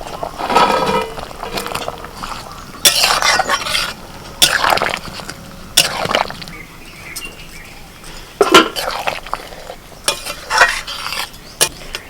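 Fried fritters are tipped into a simmering ridge gourd curry and stirred in the pot, with sharp scraping knocks and clatters spaced out over a low background sizzle.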